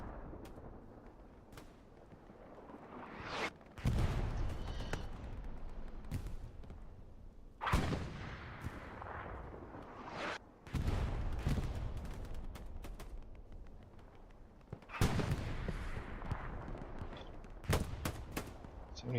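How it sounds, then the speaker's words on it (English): Gunfire exchange in the Hell Let Loose video game, with bursts of rifle and machine-gun shots and heavy reports recurring every few seconds, faint overall. "exchanging shots again"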